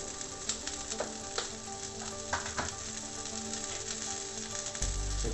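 Cauliflower and ginger sizzle and fry steadily in a covered pan, a constant crackling hiss with a few sharper pops and a low rumble near the end.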